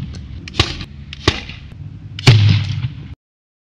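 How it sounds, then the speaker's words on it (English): A potato cannon fires: a few sharp launching thumps, three separate pops with hissing bursts, the last loudest, then sudden silence. "the resulting explosions create a large volume of hot gas which forces the potato down the length of the barrel"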